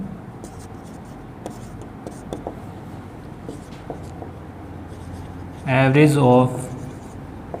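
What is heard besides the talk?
writing on a board during a maths lesson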